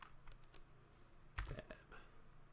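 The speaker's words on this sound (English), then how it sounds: "Now we're going to type man 5 cron" Quiet clacking of keys on a computer keyboard as a Linux terminal command is typed, a short uneven run of soft clicks.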